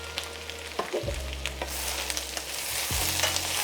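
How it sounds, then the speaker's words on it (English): Spinach wilts and fries in a pan with a steady close sizzle, punctuated by stirring scrapes and low clunks of the pan being moved. "And this we just want to wilt the spinach."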